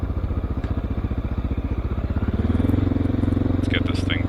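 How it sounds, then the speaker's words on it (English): A 2009 Honda XR650L dual sport motorcycle rides in and pulls up, its single-cylinder engine thumping in a steady, close, loud rhythm that swells slightly as it slows and settles. "I hope you enjoyed my first ride on my new 2009 Honda XR650L"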